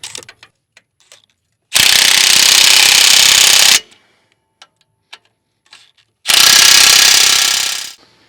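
A ratchet tightens the two bolts on a skid steer track plate, heard as two loud, sustained bursts of rapid clicking about two seconds each, separated by scattered single metallic clicks and taps.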